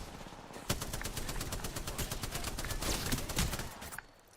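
Enemy gunfire in the video game Apex Legends, a fast rattling burst of rapid shots that lasts several seconds, loud and close, then cuts off.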